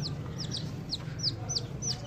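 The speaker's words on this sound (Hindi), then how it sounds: "ये 10 चिक्स हैं" Young Black Australorp chicks, about ten of them, giving repeated high, thin peeping calls at a steady pace over a low background hum, fairly quiet and close.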